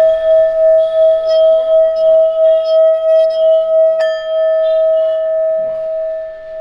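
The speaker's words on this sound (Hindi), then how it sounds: "जैसे ये अपना जो सिंगिंग बोल है, इसमें से ओम की आवाज आती है" Brass singing bowl in a Jaipur handicraft shop, ringing with a steady, pure sustained tone that wavers gently in loudness, plus a single light strike partway through.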